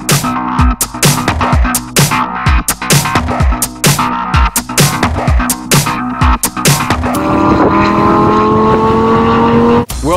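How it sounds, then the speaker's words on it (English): Supercar engines roar on a long runway at the Mojave Spaceport in California, loud and close, with a run of sharp repeated bursts and a rising whine that builds toward the end. "they've assembled a fleet of supercars here on one of California's longest runways"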